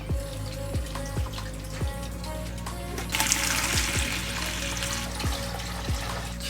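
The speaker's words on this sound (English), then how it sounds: "siphon the rest out." Water siphoned out of a paludarium tank, a steady gurgling trickle with periodic low sucking pulses, growing louder and hissier partway through; no talking.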